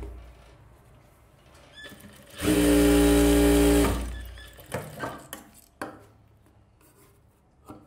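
A sewing machine stitches a silk skirt for a one-year-old with a rough overlock seam. It makes one loud, fast whirring burst of about a second and a half, then a few light handling taps as the fabric is moved.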